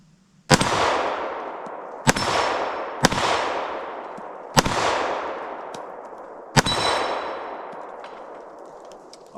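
Five sharp gunshots ring out on metal targets at a Vermont off-grid cabin, each a loud crack with a bright clang, spaced a second or two apart, and each followed by a long decaying echo.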